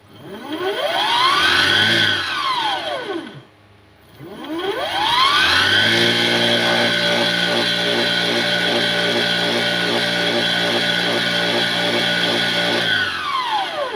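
A 1500W 60V electric motor fitted to a crank spins up twice, its whine climbing in pitch then dropping away, pausing briefly before a second long steady run at high speed that finally winds down.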